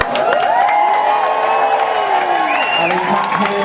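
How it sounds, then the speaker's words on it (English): A drag pageant audience claps and cheers as a contestant is introduced, with loud, close applause, whoops and shouting voices sustained throughout. "Round of applause."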